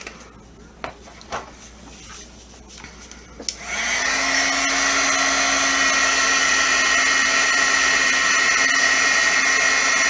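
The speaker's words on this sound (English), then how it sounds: "Okay, so we're going to heat set that." A heat tool blows steadily on embossing powder on a handmade card, its loud continuous whirring hum starting abruptly after a few light taps and holding near and steady to the end.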